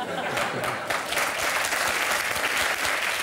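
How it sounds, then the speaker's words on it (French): Steady applause from a crowd fills the whole stretch, loud and dense, with scattered voices mixed in underneath. "il y a une dame qui applaudit"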